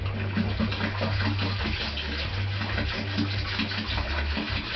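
Boiling water pours steadily into a container of dark ale brew mix, making a continuous gushing, splashing stream at close range with no pauses.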